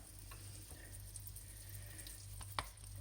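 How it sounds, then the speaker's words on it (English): Lamb rissoles, made from leftover lamb and rolled in flour, fry in a hot pan with a steady low sizzle and a few sharp crackles and pops, one louder snap near the end; no talking. "So then roll it in your flour and then pop it onto the hot pan."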